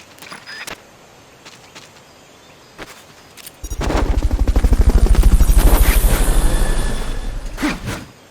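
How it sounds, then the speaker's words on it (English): In Metal Gear Solid Peace Walker, a Fulton recovery helicopter roars in close and loud with a fast rotor chop after a few seconds of quieter game sounds, then fades slightly. "Fulton recovery helicopter is complete."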